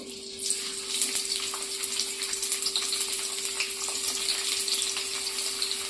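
Onion frying in hot oil in a kadai, a steady close hiss and sizzle that holds evenly throughout with no talking.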